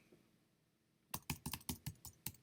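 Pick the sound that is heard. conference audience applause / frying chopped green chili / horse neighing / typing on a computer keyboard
typing on a computer keyboard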